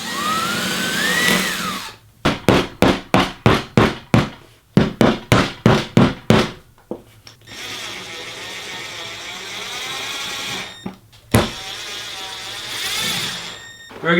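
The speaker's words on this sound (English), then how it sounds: "It is very easy to drill through it because it's only a piece of particle board." Power drill boring through particle board, a rapid series of about a dozen short whirring bursts in a steady rhythm, then a longer continuous drilling run with a few sharp knocks, close and loud.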